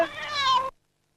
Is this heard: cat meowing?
yes